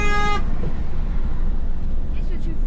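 A car horn gives one short, bright toot from a nearby vehicle on a road in Romania, then cuts off and leaves a steady low rumble of road and engine noise.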